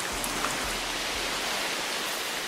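Steady rain falls through the Brazilian rainforest as a dense, even hiss of drops on foliage, close and unbroken, with no voices.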